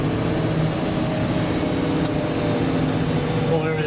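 Diesel vehicle with a reverse-pattern manual valve body slowing under engine braking in second gear, a steady low drone of engine and road noise that fills the clip without a break.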